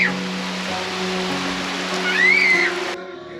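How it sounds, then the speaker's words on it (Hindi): Heavy monsoon rain pours down steadily as a dense, loud hiss, with a steady hum underneath and a brief whistle-like tone near the end before the roar cuts off. "तो ये देखो बारिश कितनी भयंकर, कितनी मोटी।"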